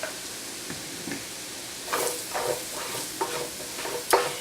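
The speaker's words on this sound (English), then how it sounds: "We're making a roux, so this is going to go in here and combine with the oil" Flour is stirred into hot grease for a roux for hot German potato salad, giving a quiet background sizzle broken by scattered close scraping and clicking stir strokes that grow busier toward the end.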